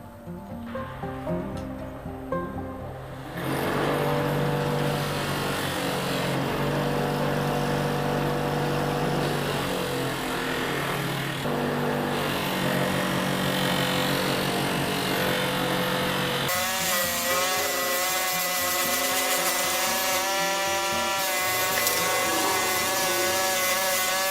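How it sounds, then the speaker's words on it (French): The handle of a homemade folding knife is polished with a power tool, a loud steady motor drone with a grinding, rubbing texture that runs almost the whole time and shifts pitch partway through. "je polis le manche"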